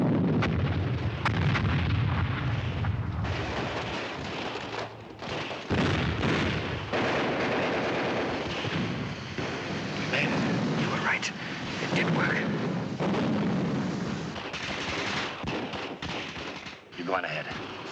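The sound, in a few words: weapons firing in a World War II film battle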